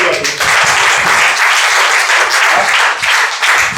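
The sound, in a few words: church congregation clapping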